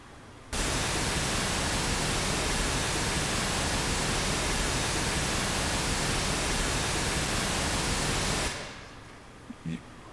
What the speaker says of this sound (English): And that was the waterfall sound.